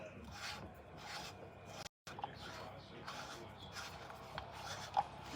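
A hand-tightened Pfister kitchen sink spray hose fitting is unscrewed, giving faint, continuous rasping and rubbing of the threads turning, quiet and close, with a brief dropout midway.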